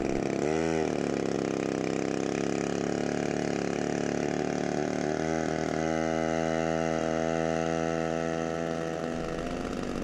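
Wick 250 portable fire pump engine running steadily, a loud buzzing mid-pitched drone with the engine speed rising and settling briefly, no talk.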